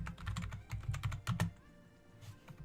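Quick bursts of keystrokes on a computer keyboard, close and fairly quiet, clustered in a rapid flurry and then thinning to a few scattered taps near the end.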